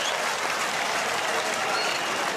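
At a volleyball match, an audience applauds steadily, a dense, even patter of many hands clapping that fills the whole moment at close range.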